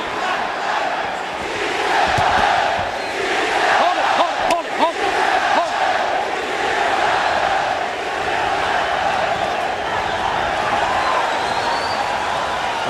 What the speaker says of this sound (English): The crowd certainly seemed happy with the results from round 1.